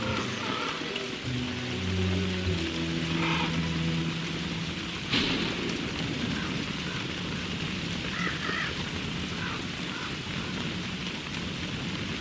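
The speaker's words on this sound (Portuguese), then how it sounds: "Que porra de chuva de sapo escrota do caramba" A frog rain falls in the video game Don't Starve Together: a steady, moderate patter of rain runs for the whole stretch, with a sharper burst partway through and no talk.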